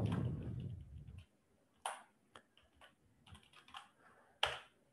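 Scattered keystrokes tapped on a computer keyboard while configuring an Ansible setup, quiet and close, coming in small irregular bursts after a brief low rumble at the start.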